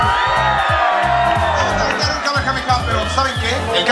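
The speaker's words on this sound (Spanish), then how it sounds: "Quiero pedirles primero que me acompañen a gritar un Kamehameha" A large crowd at a live anime convention shouts loudly in unison, with cheering and whoops rising over the roar as many voices join the chant together.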